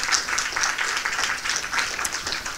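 A church congregation applauds together in a dense, steady burst of clapping that stays fairly loud and even for the whole short stretch, with no talking over it.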